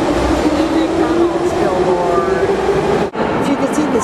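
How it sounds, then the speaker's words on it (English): A Kiev metro train pulls into the station and slows to a stop, a loud steady rumble with a rising brake whine and rail clatter, while people talk nearby. "over there, the train stops, you see, it stops"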